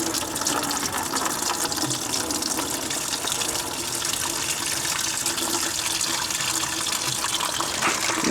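Coolant drains from a Lexus GX460 radiator in a steady, continuous gush of pouring liquid that stays at an even level throughout.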